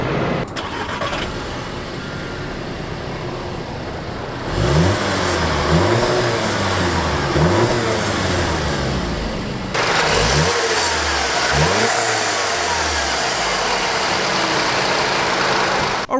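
A 2017 Volkswagen Golf Alltrack's 1.8-liter turbocharged four-cylinder cranks to life and settles to idle, then revs up in several quick rising blips, heard close and clear with no talking.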